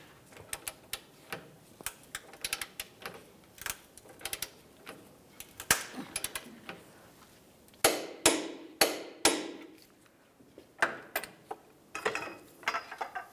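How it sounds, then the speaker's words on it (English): Torque wrench ratcheting and clicking while tightening control arm bolts on a 2010-2013 Ford Transit Connect, a close series of sharp metallic clicks and ratchet bursts in uneven rhythm, some louder clusters, with no talk. "Torque the smaller bolt to 74 foot-pounds."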